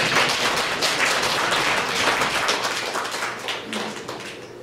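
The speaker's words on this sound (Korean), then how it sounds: "경북 봉화 그 멀리서 오신 강사님을 큰 박수로 모시겠습니다" A crowd at a native-seed farming festival applauds to welcome a lecturer: dense, steady, loud clapping from many hands that thins slightly toward the end.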